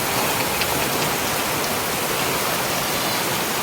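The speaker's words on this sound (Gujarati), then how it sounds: "વરસાદ ને પવન એટલો વરસાદ જ પડે" Heavy rain driven by wind, a dense, even hiss of downpour pouring steadily and close, with no voices.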